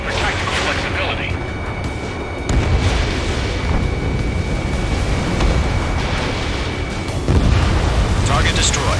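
Missile hits in the Ace Combat 7 jet combat game, two heavy booming explosions with deep rumble over continuous engine roar and cockpit radio chatter.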